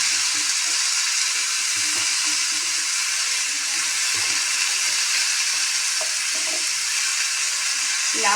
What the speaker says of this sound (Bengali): কুচো কুচো করে কেটে রাখা লাউ দিয়ে দিচ্ছি